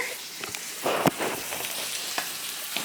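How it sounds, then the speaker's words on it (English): A steak sizzles in a pan on a home stove, a steady close crackle with scattered pops and a brief louder flare of hissing partway through. "Got Brian's steak on the stove."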